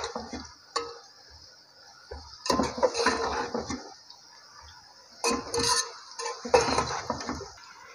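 Vegetables being mixed with chilli sauce and ketchup in a pan for chicken vegetable spaghetti, a spoon scraping and clinking against the pan in short bursts separated by quiet pauses, close by, with no voices.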